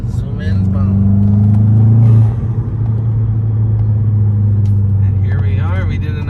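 A 2021 Volkswagen Jetta GLI drives along with a loud, steady engine intake drone and rumble from inside the car, easing slightly after a brief surge, with no talk.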